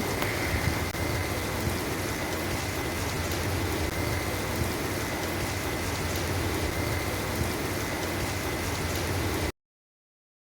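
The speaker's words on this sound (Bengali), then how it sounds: "দেখো বৃষ্টি তো হচ্ছে এখানে" Steady rain falls without a break, a dense, even hiss of drops on surfaces close by, with no talking, before cutting to silence near the end.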